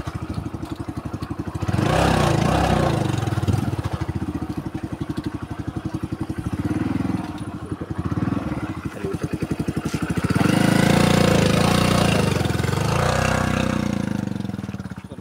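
A vehicle engine runs unevenly while being parked at a crowded village fair, its close pulsing mid-pitched putter rising and falling as it revs, with brief dips and no clear speech.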